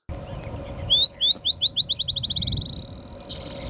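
Close and loud, a black-chinned sparrow sings from a shrub on steep Southern California slopes, sliding upward notes quickening into a fast bouncing trill that fades out, with a soft low rumble underneath.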